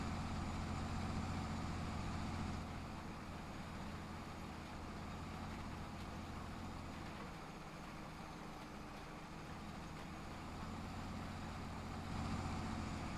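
A tractor in Farming Simulator 22 pulls a drill uphill on a road with a steady, dense engine drone that stays loud and unbroken throughout, with no talk.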